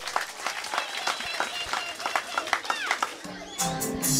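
Clapping and cheering for preschool graduates moving up to grade 1 at a school graduation ceremony in Garissa County, rising from scattered claps to a fuller burst near the end amid crowd noise and voices.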